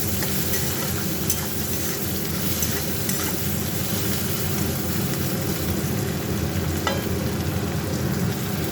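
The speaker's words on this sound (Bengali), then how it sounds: "টমেটোটা খুন্তি দিয়ে নেড়ে নেড়ে একেবারে গলিয়ে দিলাম।" Tomatoes sizzle steadily in a pan while a metal spatula stirs them, with occasional scraping clicks over a constant close frying hiss and no talking.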